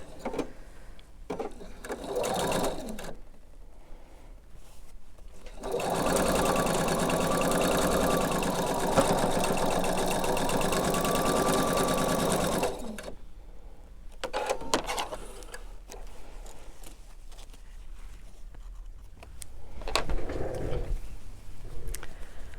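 A sewing machine stitches a quilt block seam in a long steady run, preceded and followed by quieter handling sounds and brief bursts of stitching.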